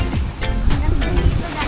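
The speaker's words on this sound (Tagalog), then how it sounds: "Sarap yung alon dito" Waves at a wave pool and beach resort in Cavite washing and splashing in repeated surges close by, with wind buffeting and a voice talking over them.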